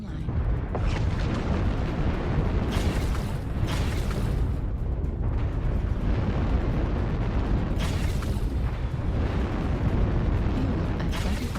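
Dense, continuous rumbling blasts of missile explosions in the MechWarrior Online mech combat game, loud and sustained with repeated bursting impacts layered over one another throughout.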